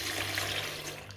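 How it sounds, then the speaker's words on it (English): Water is poured into a blender holding peppers, ginger and garlic for Nigerian moimoi bean pudding. It makes a steady, close, hissing trickle that stays fairly even the whole time, with no talking. "Then I add some water."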